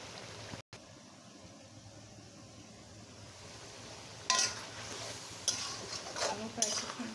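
Potatoes stirred and frying in spice masala that has released its oil, for a mixed vegetable curry. A low, quiet sizzle runs throughout, with louder spatula scrapes and clinks in the second half.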